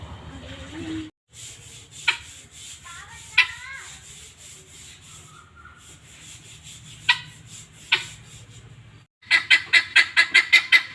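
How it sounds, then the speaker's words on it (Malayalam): A guinea fowl calls loudly in several sharp, separate cries, then ends with a fast run of rhythmic, grating calls, heard close over faint background rustling. "ഈ ഗിനിക്കോഴി ഇങ്ങനെ ഉറക്കെ കരയാൻ തുടങ്ങും"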